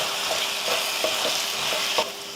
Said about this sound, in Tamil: சாம்பார் தூள் சேர்த்துட்டு அதை கலந்து விட்டுருவோம்.